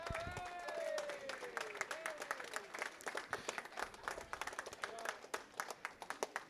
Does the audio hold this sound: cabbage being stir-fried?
no